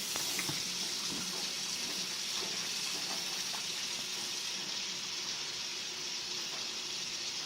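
Water from a tap runs steadily into a sink while someone washes their hands. The flow makes a constant, even hiss throughout.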